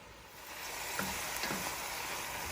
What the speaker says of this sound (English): As this spinach is sauteing and it's shrinking like we said